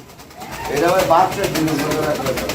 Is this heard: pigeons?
yes